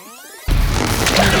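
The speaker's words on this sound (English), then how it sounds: "that's the sound of a balloon animal being made." Squeaky, rubbery twisting sound effect from the video game Doom Eternal, like a balloon animal being made, following a brief ringing lead-in and then erupting into a loud, dense stretching crunch that holds to the end.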